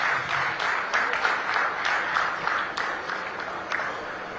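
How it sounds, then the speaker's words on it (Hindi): At a hospital inauguration ceremony in Agra, an audience applauds in a continuous, evenly paced burst of many hands, fairly close and moderately loud, with no talk over it. "एक बार जोरदार तालियां बजाकर इस क्षण को और यादगार बनाते हैं।"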